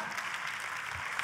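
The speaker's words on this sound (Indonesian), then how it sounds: "Kita kasih tepuk tangan dia yang paling meriah." Audience applause, a dense, even patter of many hands clapping at moderate distance, short and steady with no voices standing out.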